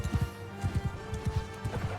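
Horse hooves gallop in Mount & Blade II Bannerlord, a rapid, steady clip-clop of repeated thuds over a low game background, close and moderately loud.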